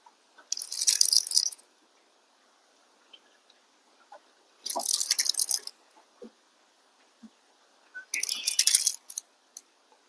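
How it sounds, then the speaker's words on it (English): Fishing line slapping against the level wind of a reel while fighting a blue catfish on a Chesapeake Bay tidal river, heard as three short bursts of rough, rattling clicks with quiet gaps and faint ticks between. "What you're hearing is the line slapping against the level wind."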